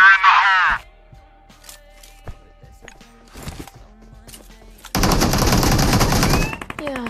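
Gunfire in the mobile battle game Free Fire, a short burst at the start, then sparse shots and noises, then a long dense volley of rapid automatic fire near the end, with some talking mixed in.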